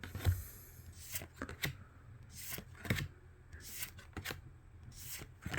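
A Pokemon Scarlet & Violet Destined Rivals card pack being torn open and handled close up: scattered papery crinkles, rips and card slides in uneven bursts, fairly quiet, with no voices.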